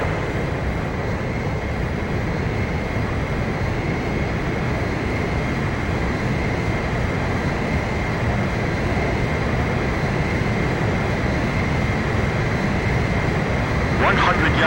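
Steady, continuous jet engine roar from a fighter plane closing on a tanker aircraft for mid-air refueling in the video game Ace Combat 5, a constant dense drone throughout with a voice talking over it.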